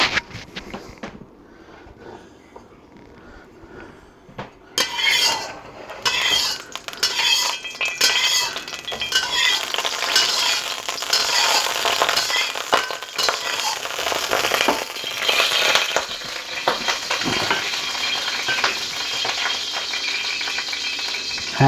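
A spoon scrapes and clatters against a wok being seasoned with oil, a dense, loud rattling and sizzling that starts abruptly after a quiet opening and continues steadily to the end.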